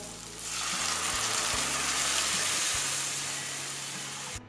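Turmeric and spices frying in a pan for a mango moong dal, a continuous loud hiss of sizzling oil with a low steady hum beneath and a few soft stirring knocks, no talking.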